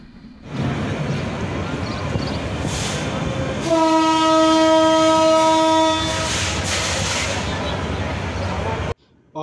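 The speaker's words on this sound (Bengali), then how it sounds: "অপর পাশ থেকে একটি আন্তনগর ট্রেন ছুটে এসেছে।" Intercity train passing through Mirzapur railway station, a loud rumbling roar with a long blaring horn midway, then fading wheel noise before a sudden cut.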